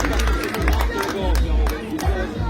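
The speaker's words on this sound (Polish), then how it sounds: "gorące brawa dla naszych wariatów" An audience at a chili-eating contest breaks into bursts of clapping and cheering, loud and close amid crowd chatter, with an announcer talking over the noise.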